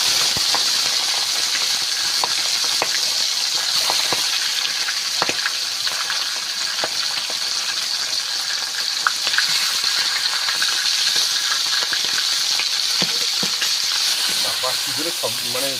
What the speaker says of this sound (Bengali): তেলটা গরম হয়ে গিয়েছে, তো এবার মাছগুলো আস্তে আস্তে দিয়ে দিচ্ছি।